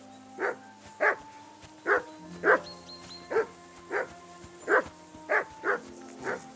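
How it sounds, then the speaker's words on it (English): A dog in the video game Kingdom Come: Deliverance 2 barks repeatedly, about ten evenly spaced, moderately close barks over a quiet background with faint other noise. "I assume you can hear that damn dog of yours barking."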